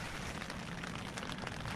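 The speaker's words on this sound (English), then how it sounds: "So relaxing, just sat here listening to the sound of the rain on the tent." Steady rain patters on a tent through a stormy winter night in the woods, a dense continuous hiss of drops close overhead with no breaks or voices.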